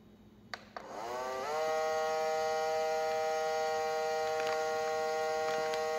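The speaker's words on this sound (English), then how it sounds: "It's a very inexpensive vacuum sealer that's available in Loha." An inexpensive vacuum sealer sealing bags of cooked sweet potatoes clicks twice, then its motor spins up into a loud, steady hum that holds to the end.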